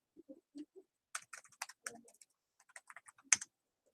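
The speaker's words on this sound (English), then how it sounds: "Oop, typed on the wrong keyboard." Keys of a computer keyboard tapped in quick, uneven bursts of close, crisp clicks with short gaps between, faint overall and with no voice.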